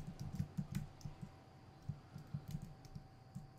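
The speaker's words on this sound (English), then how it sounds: "I like the keyboard sound." Light, rapid typing on a computer keyboard during a gaming session, with scattered clusters of soft key clicks, close but quiet, alone over a faint steady hum.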